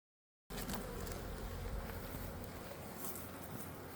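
Steady, close buzzing drone of honeybees flying into a hive carrying pollen, starting abruptly and holding constant and fairly faint with no one talking.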